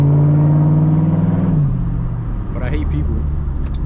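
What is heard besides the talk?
Ford Mustang 3V car driving at night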